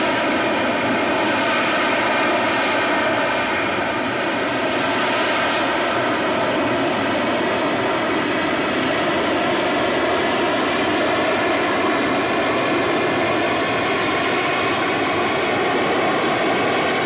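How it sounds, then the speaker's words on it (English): A jet engine roars from an AV-8B Harrier, with nozzles directing exhaust downward for vertical thrust; loud, steady and continuous broadband noise throughout, with no talking. "The AV-8B Harrier performs what seems impossible. Its powerful nozzles direct the exhaust downward,"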